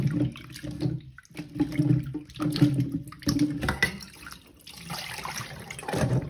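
Fresh mangoes are rinsed under a running tap to wash off the sap, giving intermittent splashing and gurgling water in uneven bursts with brief pauses, close and moderately quiet, ending in a longer, brighter stream.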